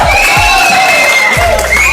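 Audience at a live shayari poetry recital claps and cheers loudly, a dense continuous burst of applause and whoops over about two seconds.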